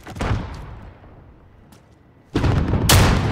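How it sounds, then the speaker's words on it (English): A grenade explosion in a first-person shooter match: a sharp blast at the start that fades into a low rumble, then a heavy burst of loud gunfire and detonations near the end. "That guy threw that grenade way off"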